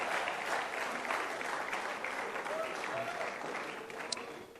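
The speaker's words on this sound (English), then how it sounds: "Clap so that I can leave." A church congregation at a business sermon claps in a sustained, even round of applause filling the room, with a faint voice briefly audible near the end.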